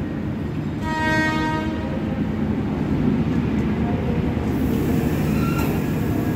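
The KA Menoreh passenger train from Jakarta to Semarang runs steadily, a loud continuous rumble of wheels and carriage, with a horn sounding briefly near the start.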